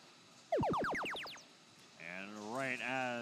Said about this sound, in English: as you hear the sound effect for the shift change